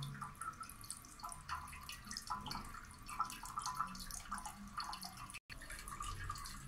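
A toilet tank refills with water just after installation, a steady faint trickle and dripping running throughout with a brief cut near the end.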